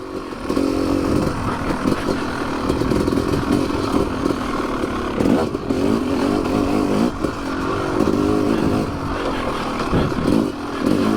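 A Yamaha YZ 250 two-stroke dirt bike rips along a fence-line trail, its loud, close, raspy engine holding a steady drone with brief dips and surges as the throttle shifts.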